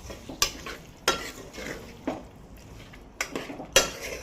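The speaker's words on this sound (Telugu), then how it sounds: "వేసుకున్నాక ఇలా మంచిగా మొత్తం కలుపుకోవాలి." Mutton pieces stirred in a pan for Telangana-style mutton curry, with several sharp spoon-on-pan scrapes and clanks at irregular intervals over a soft frying sizzle, close and fairly loud, no talk.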